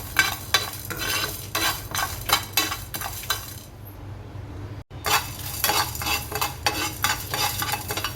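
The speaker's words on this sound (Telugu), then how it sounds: "హాఫ్ స్పూన్ మిరియాలు, ఎండుమిర్చి వేసి డ్రై రోస్ట్ చేసుకోవాలి." Black peppercorns, fennel and dried red chillies dry roasting in a pan, with rapid rhythmic stirring scrapes and light rattling that pause briefly midway, then resume just as busily.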